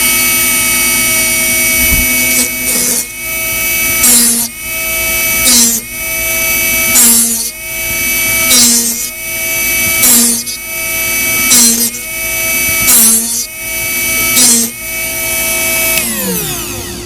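A Drill Doctor drill bit sharpener whines loudly and steadily, its pitch dipping in a regular cycle roughly every second and a half as a drill bit is ground, then spinning down.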